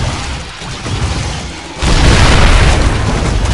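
Siege tank cannon fire and explosions in a StarCraft match, a dense rumbling battle that swells into a loud, sustained barrage of booms partway through.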